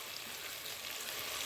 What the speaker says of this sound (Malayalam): ഇതൊക്കെ ഒന്ന് നന്നായിട്ട് ഞാനൊന്ന് വഴറ്റിയെടുക്കുന്നുണ്ട്